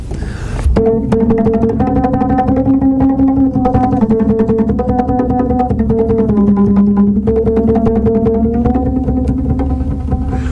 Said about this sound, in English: their guitar is called the bouzouki, and it's played with a pick, a plectrum